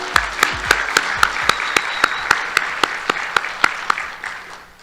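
An audience at the Miss and Junior Miss Cherokee competition applauds the pageant contestants, crowd clapping with sharp, regular louder claps or beats standing out in a steady rhythm, tapering off at the close.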